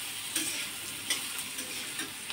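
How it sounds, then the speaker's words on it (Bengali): Potatoes and onions frying together in a pan, a steady close hiss broken by a few soft scraping stir strokes at regular intervals, with no talk. "একসাথে দুটোকে ভাজবো।"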